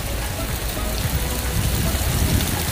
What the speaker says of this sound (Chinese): 下雨下雨下雨！